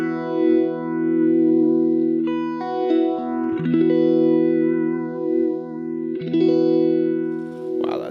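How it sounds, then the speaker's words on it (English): Electric guitar run through a Boss phaser pedal plugin with all controls at noon, playing sustained chords and notes with a sweeping, swirling phase shimmer, close and clear with no talking. "Ooh, the phaser might be cool."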